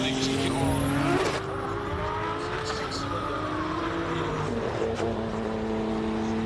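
Nissan GTR race car of Franco Scribante at the Simola hillclimb, its engine note rising and shifting through gears under a steady roar, with tire noise and a commentator talking over it.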